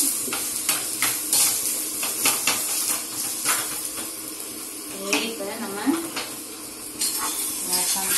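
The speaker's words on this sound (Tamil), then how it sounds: "இப்போ முந்திரி வறுத்து போட்டிருக்கிறேன்" Cashews roasting in a pan for payasam in a home kitchen at Diwali, heard as frying sizzle with repeated scraping stirs and clinks of a spoon against metal, fairly close and irregular, with some faint voices in the background.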